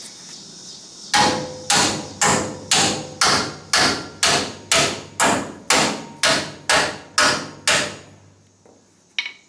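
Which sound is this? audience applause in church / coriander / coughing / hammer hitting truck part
hammer hitting truck part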